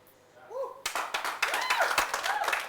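Audience clapping breaks out at a talk, starting abruptly after a quiet stretch of a voice and continuing as dense, steady applause to the end, close and moderately loud.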